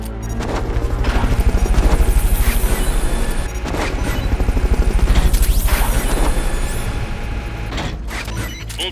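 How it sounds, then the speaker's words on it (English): A helicopter in the Metal Gear Solid: Peace Walker game pulses loudly with a low, rhythmic rotor thump throughout, mixed with mechanical clanks and sharp crash-like hits. "Fulton recovery subject confirmed onboard helicopter."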